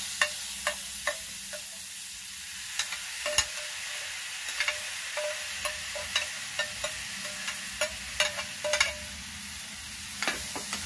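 Chicharrones fry with tomato, onion and green chili over a strong flame, a steady sizzle punctuated by frequent sharp scrapes and clicks of stirring in the pan.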